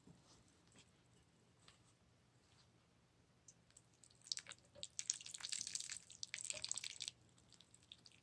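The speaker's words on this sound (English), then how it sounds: "I'll just add a little bit more water" Water trickling and dripping onto a potted cactus, faint at first, then a louder splashing pour for a couple of seconds before tapering off, with small clicks around it.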